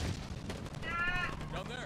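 Sharp blasts and rapid gunfire ring out in a Halo Infinite capture-the-flag match, with several punchy bursts and a brief voice in the mix.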